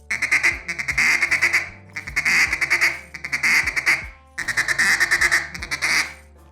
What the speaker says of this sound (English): we do the kuk kuk sound with the drag in there